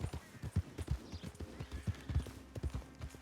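Horse hooves galloping in Red Dead Redemption 2, a quick, steady rhythmic clip-clop of thudding hoofbeats, close and fairly loud, continuing without pause; no voices.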